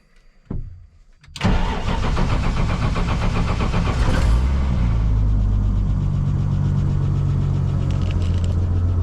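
A Nissan R31 Skyline track car, unstarted for two weeks, cranks briefly and catches, then settles into a loud, steady, smooth idle that stays close and continuous.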